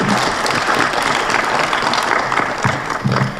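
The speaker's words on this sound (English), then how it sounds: "Give yourselves a round of applause." Educators and families in the audience at a middle school poetry recitation competition give themselves a loud, sustained round of applause, dense clapping filling the hall from start to finish.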